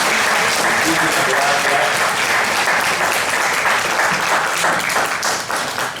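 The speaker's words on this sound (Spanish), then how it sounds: "pido un aplauso para René" Sustained audience applause thanking a presenter named René at an agricultural outlook session, dense clapping filling the room steadily before tapering slightly at the end.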